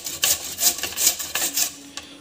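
Small potatoes rubbed over the large holes of a grater, giving a run of about eight quick rasping strokes in an uneven rhythm, close and fairly quiet.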